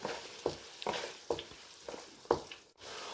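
Chopped tomatoes land in a pan of frying spiced potatoes and cauliflower, giving a soft steady sizzle broken by several stirring scrapes at a regular pace, close and fairly quiet.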